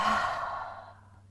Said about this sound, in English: Maybe those ujjayi breaths. Let's try 2 of those. Inhale, constricting the back of the throat. Exhale.